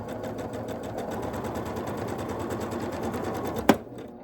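A sewing machine stitches a quilt block in a fast, even mechanical chatter that runs steadily and close, then stops abruptly with a sharp click.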